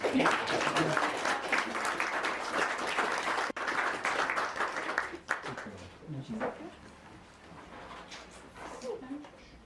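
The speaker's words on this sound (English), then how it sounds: "Round of applause." Wedding guests break into applause during the ceremony, a full burst of clapping that thins out and trails off into scattered claps, with voices murmuring underneath.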